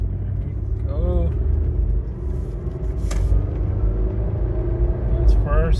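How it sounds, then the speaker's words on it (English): A Mitsubishi car with an Aisin AW30-40LE automatic transmission and a failed valve body and solenoids pulls away, its engine rumbling steadily from inside the cabin as it shifts through gears, while someone talks briefly over it. "we're gonna attempt to drive it again and see if it goes through all the gears with no issue"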